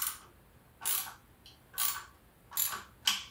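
Ratchet wrench cranking bolts on a two-piece Asanti 22-inch wheel during rebarreling, heard as four distinct bursts of rapid clicking spaced about a second apart, close and fairly quiet.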